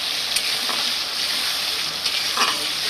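Two large onions frying in a pan for chicken curry give a steady, close sizzle with a few brief stirring scrapes, with no talking.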